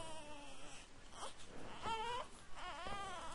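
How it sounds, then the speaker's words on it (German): A faint, distant baby's wailing cry echoes in the horror video game [REC] Shutter, rising in several strained, quavering bursts over a low background hiss. "Das ist ein Baby."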